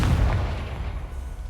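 Confringo fire spell blast in the video game Hogwarts Legacy, a loud booming explosion with a rumbling low-end roar that decays slowly over about a second and a half.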